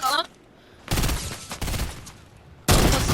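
Bursts of gunfire from the video game Fortnite crackle in three loud volleys separated by brief gaps, with voices talking over the shots.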